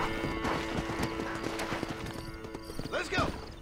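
A horse in the Red Dead Redemption video game clip-clops with rapid hoofbeats and gives a short whinny near the end, with a voice talking over the game sounds.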